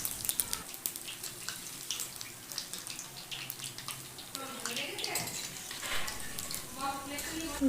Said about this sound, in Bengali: ভাজা হচ্ছে এখনো